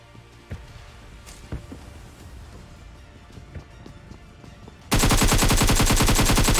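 Rapid automatic gun spray in BGMI, a loud dense burst of full-auto fire erupting near the end after scattered single shots and quieter game ambience.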